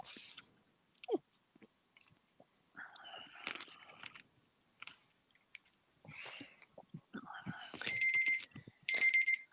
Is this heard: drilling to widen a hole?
no